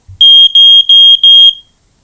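A Status smoke detector sounds its test alarm: four loud, piercing electronic beeps in an even rhythm, very close, then silence.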